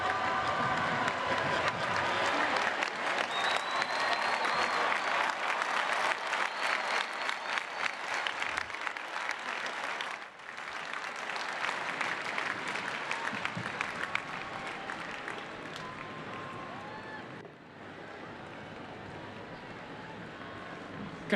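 Sustained applause from a large crowd at a university commencement for doctoral degree recipients, a loud, continuous wash of clapping that briefly dips twice before carrying on, with some faint crowd voices mixed in.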